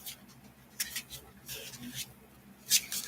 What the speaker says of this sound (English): just shuffling the cards to get